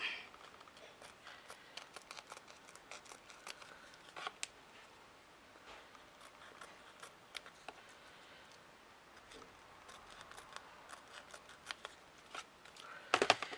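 Scissors trim material for a picture frame with a series of quiet, crisp snips scattered irregularly across a hushed room, growing louder and closer in a quick cluster at the end.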